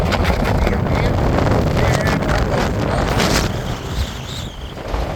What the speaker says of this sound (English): don't know if you can hear me over this gale force wind